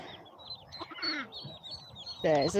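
Ducklings peep in thin, high chirps around a pond while a mother duck calls with louder quacks near the end, close by, with a person talking softly among the calls.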